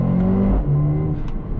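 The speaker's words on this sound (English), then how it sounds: "Very aggressive, the gear changes on this one." A Mercedes A45 in Sport Plus mode accelerates hard, its engine droning loud and close from inside the car, with a sharp, aggressive gear change that briefly drops the note before it climbs again.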